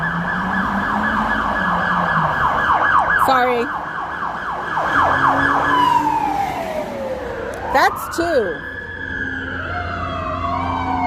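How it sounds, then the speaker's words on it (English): Fire engine and police car sirens wail past on a street, their tones sweeping and falling as the vehicles pass, loud and fairly near, with a person briefly talking over them. "Ah, fire engine. And the fire engine. Well, 2 cars and 1 fire engine."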